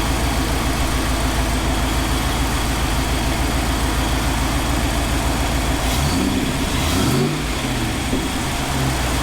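A loud, close Land Rover engine fitted with a K&N air filter runs with a steady throaty rumble, then revs up and settles back down near the end.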